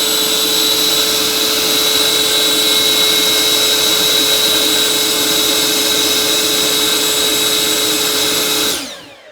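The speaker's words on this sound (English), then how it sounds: "I'm going to take the blower, I'm going to level out the nozzle right at the top of the bucket and blow in there" A Kobalt 24V cordless leaf blower blasts air into a bucket, a loud, steady high-pitched whine held without a break for about nine seconds before cutting off sharply at the end.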